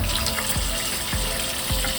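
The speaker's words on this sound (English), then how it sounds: "getting some water in there" Tap water runs steadily into a kitchen sink over raw chicken being washed before seasoning, a loud continuous splashing stream up close with no talking.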